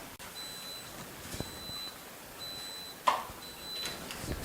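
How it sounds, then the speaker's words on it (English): A pressure cooker's timer goes off after a 15-minute cook, sounding a series of faint, evenly spaced high beeps over quiet kitchen background with a few soft clunks. "now that the timer has gone off, it's gone its full 15 minutes"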